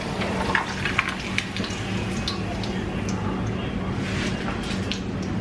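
Corn tortilla bubbling and sizzling in hot oil in a pan while preparing chicken enchiladas suizas, a steady close crackle and fizz with scattered sharp pops throughout.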